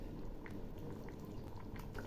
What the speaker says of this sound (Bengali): ঝোল একটু একটু ফুটছে